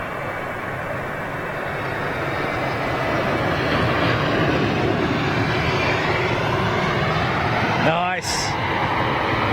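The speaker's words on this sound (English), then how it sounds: "Listen to this, folks. Boeing 747." Boeing 747 airliner landing on runway 27R at Heathrow Airport, a loud sustained jet engine roar that holds steady throughout, with a brief whine sweeping downward near the end.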